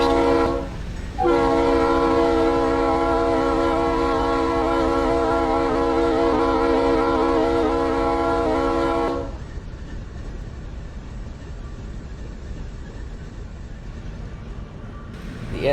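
In a Roblox train game, a freight train led by two diesel locomotives sounds its horn in a long, steady chord, then cuts off, leaving the rumbling roll of the passing train.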